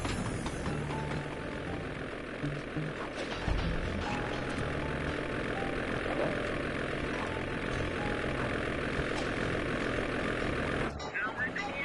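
Ice plane engine in the Sly 2: Band of Thieves video game, a steady droning propeller hum that runs unbroken for nearly twelve seconds with faint game effects over it, then cuts off abruptly at the end.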